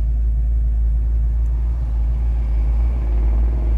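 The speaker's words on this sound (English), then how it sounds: "The exhaust has a nice throaty sound to it. It's not excessive, but it gives the car a nice rumble out of the Flowmasters." A 1967 Ford Mustang Fastback idles through Flowmaster exhaust, putting out a steady, throaty low rumble that stays even and close throughout with no voices.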